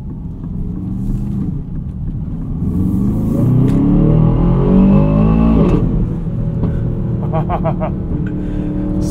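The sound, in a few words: Aston Martin DBX 707 engine accelerating with quick gear shifts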